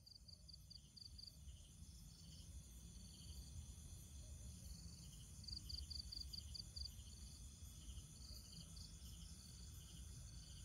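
Nocturnal predatory rainforest cricket singing continuously, a steady high pulsing trill layered over a dense chorus of insects, with no pauses across the whole stretch.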